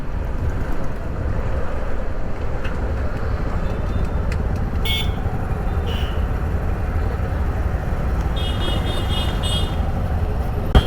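Busy city road traffic in Chennai makes a dense, steady roar of engines, with short car horn toots scattered through it. Wind buffets the microphone throughout, and no one speaks.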